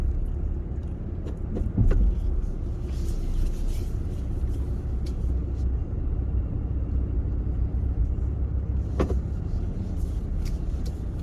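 Purple Mazda Miata on knobby tires, heard as a steady low road rumble of a passing or nearby car with a few faint clicks and knocks, no talk.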